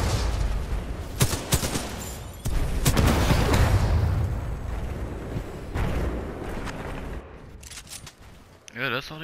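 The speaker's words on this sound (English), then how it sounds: "all they doing non-stop is just throwing fucking frags" Repeated frag grenade blasts and gunfire from the shooter game Titanfall 2, loud, dense and overlapping in bursts, with heavy low booms rising midway through.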